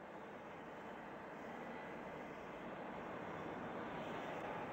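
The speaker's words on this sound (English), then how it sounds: "Planes are leaving Abbotsford and Prestwick every few minutes through the night and all the next morning." Airplanes departing Abbotsford and Prestwick at night carry a steady, distant engine drone that builds gently over a few seconds, with no talk over it.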